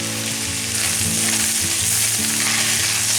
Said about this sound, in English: Stir it all around to coat the beef